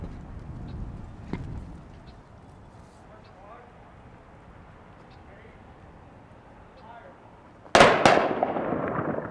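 A ceremonial rifle volley by a firing squad at a White Cross ceremony: one sharp, loud crack near the end after a long quiet stretch of outdoor ambience, with a faint distant report earlier.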